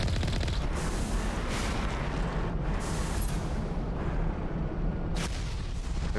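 Missiles exploding in the Mass Effect video game, a dense continuous roar of blasts and booms in a loud combat scene, with brief dips between impacts.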